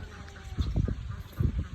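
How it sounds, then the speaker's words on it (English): Ducks on a pond at a farm, a few close honking quacks in two short clusters over a quiet outdoor background. "So those are the ducks"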